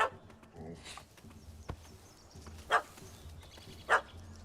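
A dog barks twice in The Witcher 3, two short sharp yelps spaced about a second apart over quiet game ambience with soft footsteps and rustling.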